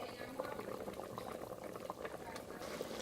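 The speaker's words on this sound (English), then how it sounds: "I add my palm oil to it and let it cook for additional 5 minutes." Ghanaian okra soup with palm oil bubbles and simmers in a pot, a steady dense wash of small pops and liquid gurgles heard close and fairly quiet throughout.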